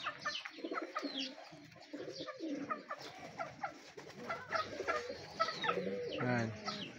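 Young pigeons coo in repeated soft, throaty bursts close by, with scattered other bird calls and light rustling in between.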